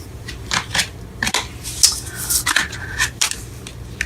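A deck of tarot cards is shuffled up close in several quick riffling bursts, crisp papery flutters separated by short pauses.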